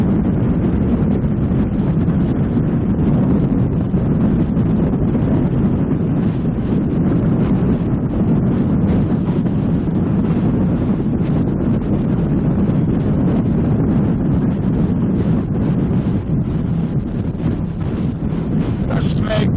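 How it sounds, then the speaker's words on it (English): Strong wind on a sailboat racing in a championship buffets the microphone with a constant heavy rumble and roar that stays loud and unbroken throughout. "Very windy now."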